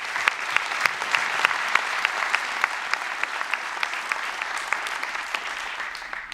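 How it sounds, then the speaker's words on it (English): Steady, close applause from an audience at a tribute event, a dense crowd of hand claps sustained evenly throughout with no talk over it. "Give everyone a round of applause because we don't put our heads down here."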